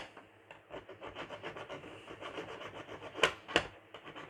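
Rubbing to key up the surface of model railway track before soldering droppers, a steady close scratchy rasping with repeated strokes and two sharper louder scrapes near the end.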